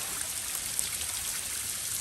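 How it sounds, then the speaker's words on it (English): Water flowing at a duck pond in Disney's Animal Kingdom, a steady close hiss of trickling and splashing that runs unbroken throughout, with no voices. "Listen to the water."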